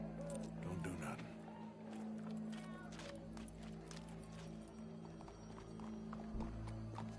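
Video game horse hooves clip-clop in a loose rhythm against a steady low droning background, with brief faint thuds and ambient game sounds around them.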